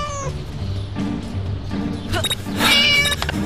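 A mischievous cat in the Scary Teacher 3D Android game yowls twice near the end, a sharp whiny meow and a longer caterwaul over looping game music.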